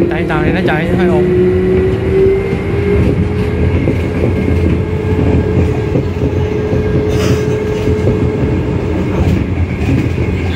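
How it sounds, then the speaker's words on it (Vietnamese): A metro train in Taipei rumbles loudly and steadily throughout, with clattering rail noise and a sustained whine; a voice talks briefly near the start. "Nó hơi ồn, tại tàu này nó chạy hơi ồn."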